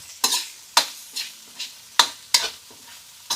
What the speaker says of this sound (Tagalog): Gigisa ko lang muna yan.